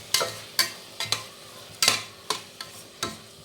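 Tomatoes frying in a pan with salt get stirred, a series of sharp utensil scrapes and clinks at an uneven rhythm over a faint sizzle, close and clear with no talking.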